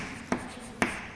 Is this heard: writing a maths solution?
yes